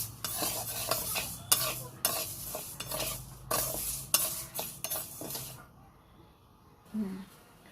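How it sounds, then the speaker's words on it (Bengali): Mung dal is stirred as it fries in a pan, giving a run of scraping strokes over a soft sizzle, then stopping into near quiet with one small clink. "ডাল আমার ভাজা হয়ে গেছে।"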